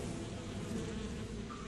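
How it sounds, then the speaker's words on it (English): Bullet bees, special hornets in the video game Metal Gear Solid 3, making a faint, continuous insect buzz that drones on without pause. "Bullet bees are the name the pain gives the special hornets he raises inside his own body."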